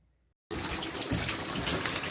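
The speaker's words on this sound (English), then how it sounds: "So now, we got to fill this up with some water." Water pours from a tap into a rock tumbler bucket, bursting in abruptly after a brief silence and then running loud and steady to the end.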